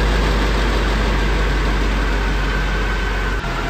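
An Opel 1900 showroom stock sedan engine runs steadily at about 1500 RPM in fourth gear, a loud, continuous low drone with even mechanical vibration and no talk.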